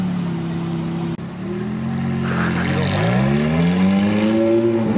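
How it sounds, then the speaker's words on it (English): A Ferrari 430 Spider's engine hums steadily up close, then climbs in pitch as it revs, loud and alone. "here we have the worst sounding Ferrari that has ever been produced. The 430 Spider."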